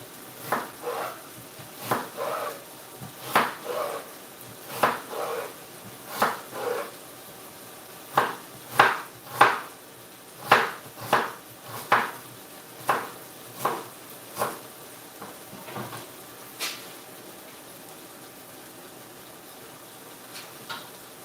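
A knife chops an onion on a cutting board in a home kitchen, a run of about twenty distinct close thuds in loose rhythm that thin out and fade toward the end, with no talking.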